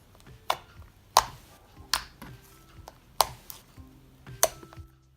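Thick, sweet cereal-scented slime studded with rainbow foam balls, sprinkles and black glitter, giving six sharp, close pops and clicks spaced about a second apart over quiet squishing.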